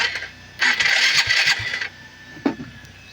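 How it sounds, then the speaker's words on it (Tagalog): A carbureted 2013 Suzuki Skydrive 135 motorcycle engine cranks and catches, running in a loud burst for about a second before settling, then gives another short rev at close range. "Ito, i-start namin."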